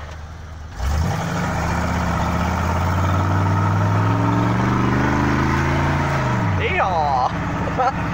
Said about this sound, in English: Stop sign, those are for burning out or revving it up really hard.